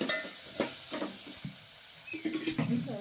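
Ground spices and garam masala being stir-fried in a pan, with a low sizzle under scraping and clinking of a spoon against metal, close and intermittent.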